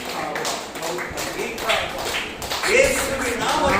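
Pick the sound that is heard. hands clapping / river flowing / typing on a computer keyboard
hands clapping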